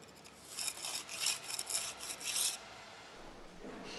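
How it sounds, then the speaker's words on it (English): Pointing trowel scraping and rubbing mortar in brick joints, a quiet rasping sweep repeated in several short strokes, close up with no talking. "use the trowel to remove the gaps from the joints"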